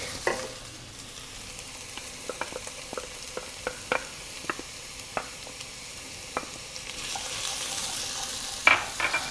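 Soft steady sizzle of minced garlic in a pan with scattered clicks and taps of stirring, a brief louder clatter near the end; no voices.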